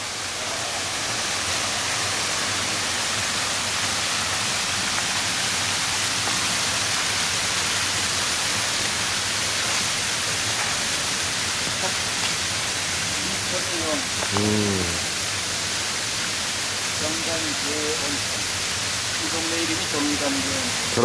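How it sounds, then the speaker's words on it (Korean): Steady broadband rushing of a waterfall at a Noboribetsu hotel fills the whole stretch, loud and constant, with brief voices and chirps surfacing faintly near the end. "자, 폭포 있죠?"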